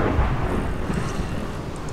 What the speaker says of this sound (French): il y a des éclairs qui tombent à côté là, vous avez vu?